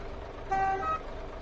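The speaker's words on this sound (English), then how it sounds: "Honk." A locomotive horn sounds for about half a second with steady harmonic tones, rising over a low rumbling engine background.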